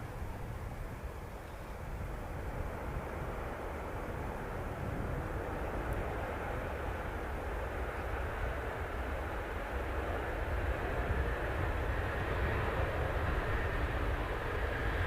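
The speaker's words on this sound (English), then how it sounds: "Many EasyJet planes." Jet airliners, including EasyJet planes, at Manchester Airport make a continuous broad engine roar and rumble that swells slightly over about fifteen seconds, heard from a distance with no talk.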